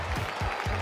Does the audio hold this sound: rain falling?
no